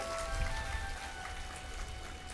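Rain falling steadily at an outdoor Hindu religious gathering, a dense, even patter of drops that fills the background with no voices over it.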